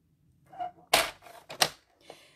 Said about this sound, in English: I'm going to cut that one from corner to corner.